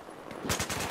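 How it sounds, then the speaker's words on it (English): Rapid bursts of M249 machine gun fire in Battlefield 4 multiplayer, a loud rattling string of closely spaced shots starting abruptly after a quieter moment and continuing steadily. "This guy with his fucking M249"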